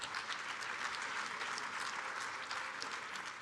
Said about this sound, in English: Please clap for our new CEOs of our world.